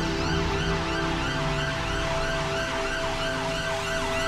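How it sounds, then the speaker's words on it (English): An ambulance siren wails continuously, its tone rising and falling over steady traffic rumble, fairly close and loud throughout. "The ambulance is coming."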